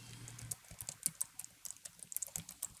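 Quick, irregular typing on a computer keyboard, close and fairly quiet, with bursts of crisp key clicks and a few short pauses, no voices.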